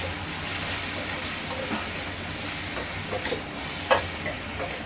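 Whole spices such as cinnamon, cloves and cardamom, with chilli powder, fry in a pan for a smoky chicken dish and are stirred. There is a steady low sizzle and hiss with a few soft scraping clinks.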